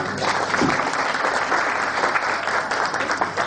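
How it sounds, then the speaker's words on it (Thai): Sustained audience applause fills a Thai seminar or clinic hall, a dense, steady wash of many hands clapping at even loudness throughout, with no talking over it. "ขอให้ปรบมือขอบคุณทั้งสองท่านด้วยครับ"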